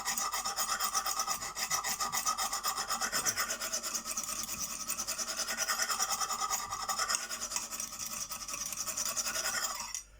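A CK Viper knife blade strokes steadily across an extra coarse Lansky sharpening stone to take off the burr, a continuous close gritty rasp with rapid repeated passes that stops abruptly at the end.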